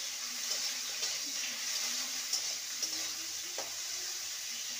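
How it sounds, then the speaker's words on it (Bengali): Bitter gourd slices fry in a pan with a soft, steady hiss, faint and constant, with occasional small pops and stirring clicks. "উচ্ছেটাকে লাল করে ভেজে নেব।"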